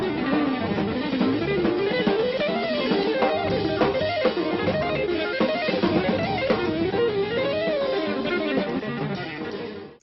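Electric guitar legato lick, fluid flowing lines of slurred notes winding up and down over roughly ten seconds, steady and sustained, then stopping abruptly.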